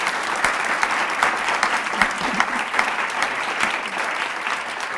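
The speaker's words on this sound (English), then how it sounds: "let's have a round of applause for" Sustained applause from an audience at a dance performance and discussion event, a dense steady wash of clapping with a few sharper nearby claps standing out.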